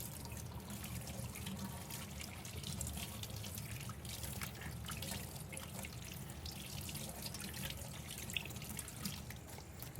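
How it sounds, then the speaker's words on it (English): Steady running tap water splashing into a sink while hands are rinsed, a continuous close wash of water with faint drips, no talking. "Then go ahead and rinse your hands off."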